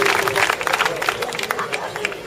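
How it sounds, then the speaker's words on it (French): An audience at a French agility team presentation applauds a team member, giving brief, close, dense clapping mixed with crowd murmur. "vous pouvez l'applaudir"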